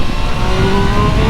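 A 2025 Triumph Tiger Sport 800 motorcycle accelerates hard in sport mode. The engine is close and loud, its note climbing steadily over heavy wind roar.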